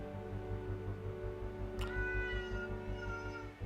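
A domestic tabby cat meows once, close and clear, with a drawn-out tonal call rising over a steady low hum in the room.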